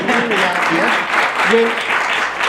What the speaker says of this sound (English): you can applaud if you like